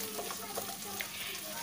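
Pieces of raw chicken, about 500 grams of cock chicken, go into a hot pan of fried spices for a spiced khichuri and set off a steady sizzle with small crackling pops, close and moderately loud.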